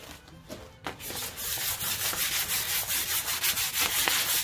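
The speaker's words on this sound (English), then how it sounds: "Okay, going to start the sanding process." Rhythmic scratchy rubbing of sandpaper on a surface, steady back-and-forth strokes repeating close up after a brief start.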